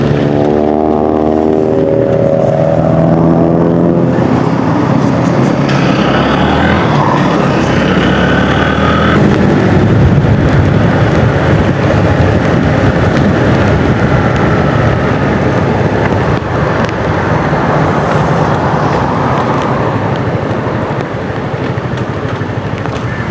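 Motorcycle riding in rain, a loud, steady rush of wind, engine and road noise that fills the whole stretch, with pitched engine tones at the start and no talking.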